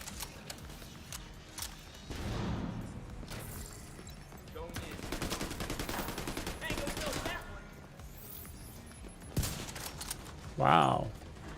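Rapid bursts of automatic gunfire in The Division 2 during a legendary summit climb, coming in clustered volleys with short gaps, mixed with game effects and a player talking now and then.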